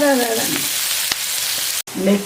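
Onion frying in a pan: a close, loud sizzle with a stirring scrape, briefly cutting out near the end before resuming, with no talking.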